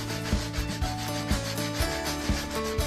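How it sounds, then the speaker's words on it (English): A 120-grit sandpaper disc from an orbital sander rubbed over an old wooden dresser, giving close, steady scratchy strokes in a regular back-and-forth rhythm. "I'm just using a sandpaper disc off my orbital sander, and it's 120 grit"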